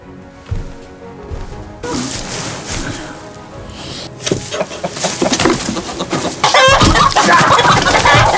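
Chickens cluck steadily in a coop-like setting while a rooster crows, the fowl sounds loud and busy throughout and rising to a denser, louder chorus toward the end.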